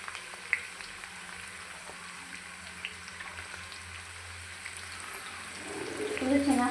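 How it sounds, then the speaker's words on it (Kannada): Sliced onions for Hyderabadi chicken dum biryani frying in hot oil, a soft continuous sizzle with faint stirring clicks, growing a little louder and busier toward the end. "ಇವಾಗ ಇದನ್ನು ಎಣ್ಣೆ ಒಳಗೆ ಹಾಕ್ತಿದ್ದೀನಿ. ಎಣ್ಣೆ ಒಳಗೆ ಹಾಕ್ಕೊಂಡು ಚೆನ್ನಾಗಿ ಫ್ರೈ ಮಾಡ್ಕೋಬೇಕು ಈರುಳ್ಳಿನ"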